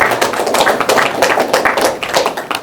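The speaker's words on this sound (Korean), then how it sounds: "여러분 다시 한번 따뜻한 박수 부탁드리겠습니다" An audience at a Catholic citizens' assembly on election fraud claps warmly. The applause is loud and dense, a close patter of many hands that runs without a break, with no voices over it.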